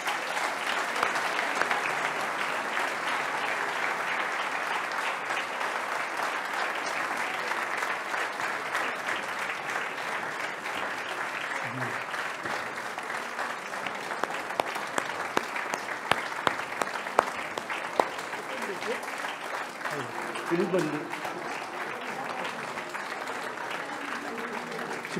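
Warm, sustained applause from a crowd at a mayor's New Year address in Port-Saint-Louis-du-Rhône, greeting the municipal council members, dense and even throughout with a few louder individual claps near the end.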